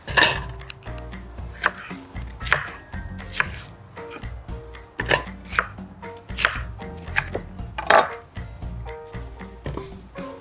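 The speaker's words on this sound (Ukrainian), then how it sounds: "Тепер нарізаємо перець і маринуємо за таким же принципом." A knife chops bell pepper on a board in a series of sharp, close, irregular cuts and taps, loud against a quiet kitchen background.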